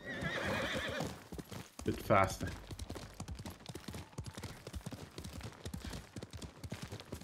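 A horse ridden in Ghost of Tsushima gallops with rapid, continuous clip-clop hoofbeats and gives a loud neigh early on, while a voice speaks briefly over the start.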